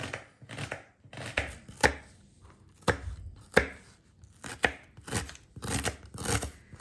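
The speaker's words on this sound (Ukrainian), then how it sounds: "Беремо цибулю і просто, як на зажарку, отакої міленько" Knife finely dicing onion into small cubes on a board, a steady series of sharp, close chops with short pauses, alone without talk.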